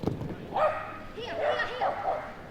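A dog on an agility course at the Crufts 2013 Young Kennel Club competition gives several short, yelping barks and whines under steady commentary, with the crowd sound of the arena behind.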